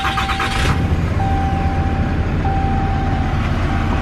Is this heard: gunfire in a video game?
no